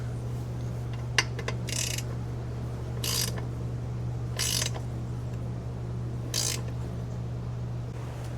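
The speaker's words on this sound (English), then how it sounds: "let's give them a what for with the ratchet" Ratchet wrench tightening a 13 mm nut on a nut plate of an A-arm guard on a 2022 Polaris Sportsman 570 ATV, giving several short bursts of clicking spaced a second or more apart over a steady low hum.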